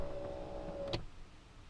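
A 2007 Range Rover L322 electric seat motor hums steadily at close range for nearly a second, then stops with a small click, leaving quiet cabin hiss.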